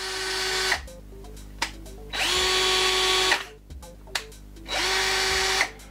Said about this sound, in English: Now it's 400, now 1400, and actually I think something might be wrong with this drill.